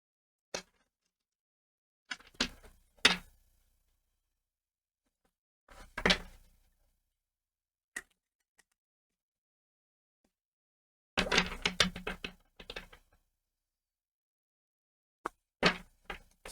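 A deck of tarot cards shuffled in short bursts, quiet riffling and flapping with sharp taps of the cards against a surface, separated by silent pauses.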